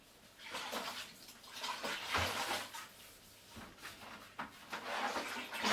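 Water running from a hose while making strawberry cider, a steady close gush with surging swells and splashes, with no voices.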